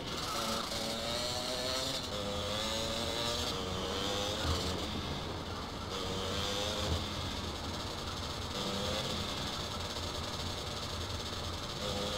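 Motorcycle ride in GTA Vice City during a chase: a steady droning engine with wavering pitch runs continuously under game noise, with no pauses or clear revving peaks.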